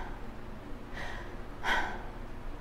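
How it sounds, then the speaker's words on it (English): Two soft, close mouth breaths, an inhale followed by a stronger breathy exhale, quiet and airy with no talking. "Notice where I end up breathing when I breathe through my mouth."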